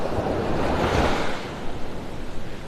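Surf rolling onto Vanderbilt Beach in North Naples, Florida, on a cloudy morning with the tide going out; a loud wash of a breaking wave swells and then recedes into softer, fizzing foam, with light wind and no voices.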